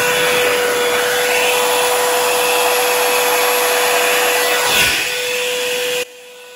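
Hair dryer blowing across a wet acrylic paint pour in an autumn bloom technique, a loud steady close-up whoosh with a constant hum running for about six seconds before cutting off abruptly, no talk.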